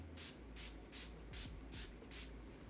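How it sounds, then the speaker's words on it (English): Farsali face mist sprayed onto the face in five quick, soft bursts at a steady pace, close by and alone over a low background. "let me go ahead and spray my face with my Farsali spray"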